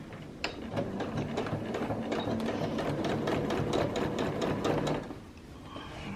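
A sewing machine back stitching quilt binding runs in one steady, close mechanical whir with a fast needle chatter for about five seconds, then stops, leaving quiet room tone.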